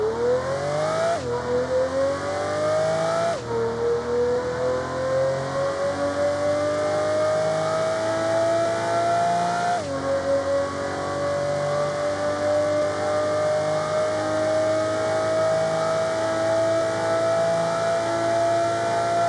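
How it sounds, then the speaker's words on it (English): A high-pitched V12 racing engine in a video game drones continuously, its whine climbing steadily through several gear shifts, each marked by a sudden dip in pitch. "Oh, that is literally any other V12 in the game."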